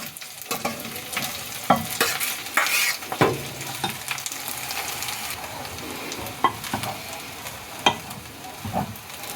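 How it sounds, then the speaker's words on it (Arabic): Cooked bulgur and lentil mujaddara is stirred onto frying onions in a pan, giving a steady low sizzle punctuated by irregular scraping clinks of a utensil, close up with no talking. "وهلأ راح أحط المجدرة فوق البصل."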